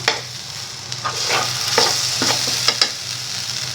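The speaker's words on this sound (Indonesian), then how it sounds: "cabai yang udah di blender ditumis" Blended chili paste, shrimp and meatballs stir-frying in a home-kitchen pan for fried noodles, a steady close sizzle with bursts of crackle and spoon-scraping stirs, no talking.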